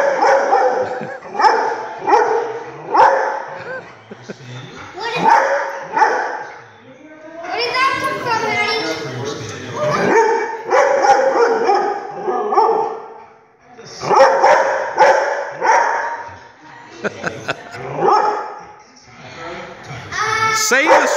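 Dogs bark from a television broadcast of the Westminster Dog Show, a steady run of barks and yips mixed with people talking throughout.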